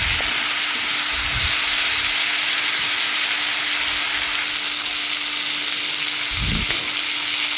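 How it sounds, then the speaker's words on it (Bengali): Vegetables and fish head sautéing in a pan for a Bengali chhechra, giving a steady sizzle throughout with a few low knocks of stirring, close and fairly loud, with no talking. "এর জন্য কিন্তু সবজিটাকে ভালোভাবে কষাতে হবে।"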